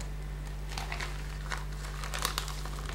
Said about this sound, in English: my chocolate hamburgers are pretty much ready to be peeled off, and they peel off pretty easily